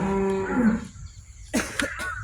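A cow at a dairy farm gives one loud, close moo that fades, followed by brief rustling and thumping movement nearby.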